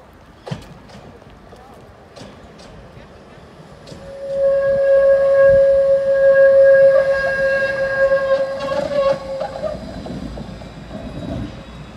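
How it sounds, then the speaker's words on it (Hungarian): A tram in Košice, Slovakia, on a line through fields to the steelworks, rolls past nearby, its rumble swelling with a sustained metallic squeal and clatter over the rails, fading slowly toward the end. "És hát idáig csak érkeztek a villamosok."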